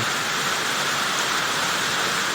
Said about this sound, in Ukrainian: Оце дощ.